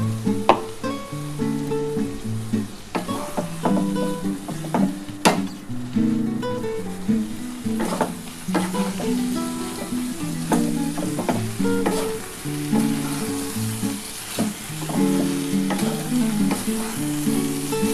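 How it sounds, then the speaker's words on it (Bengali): Poppy seed paste and a little water added to a frying pan of ridge gourd, potato and onion, a continuous close sizzle with frequent clinks and scrapes of a spoon stirring, no voices. "এবার এই পোস্তটা আমি দিয়ে দিচ্ছি এর মধ্যে অল্প একটু জল দিয়ে আমি ঢেলে দেবো"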